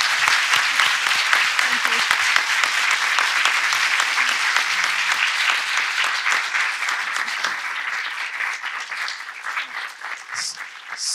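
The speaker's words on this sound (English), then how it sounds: "I think you really deserve an applause now for this." Audience applause at an international seminar on gender perspectives, loud sustained clapping from many people that holds steady and eases slightly toward the close.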